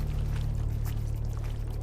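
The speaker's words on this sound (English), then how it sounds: "it's running water." Running water in the Horizon Forbidden West game pours in a steady, close, continuous rush under a low droning music bed, with no talking.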